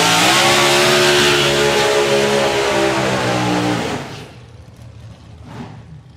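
A supercharged small block drag car does a burnout at the NSRA Nostalgia Nationals. It gives a loud, sustained engine roar held steady close by for about four seconds, then drops off sharply to a fading, distant rumble.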